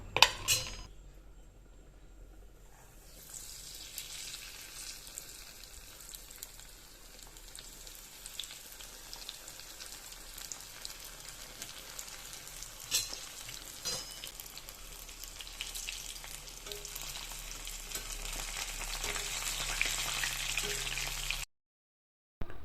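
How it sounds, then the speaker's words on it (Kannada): Rava-coated boothayi fish frying in hot oil: a faint clatter first, then a rising, steady crackling sizzle that grows louder and denser before stopping abruptly near the end. "ಎಣ್ಣೆ ಕಾದಿದೆ ಇವಾಗ ಇವಾಗ ಫಿಶ್ ಫ್ರೈ ಮಾಡ್ಕೊಳ್ಳೋಣ"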